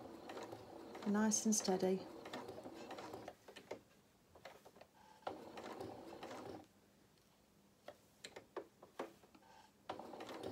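A hand-cranked sewing machine stitches a fabric Highland cow head, with a brief louder mechanical whirr followed by soft, intermittent clicks and clacks, while a person speaks quietly.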